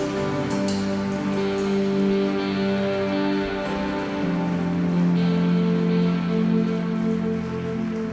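A church congregation applauds at a worship conference, a steady wash of clapping that runs unbroken beneath sustained band chords and keyboard tones.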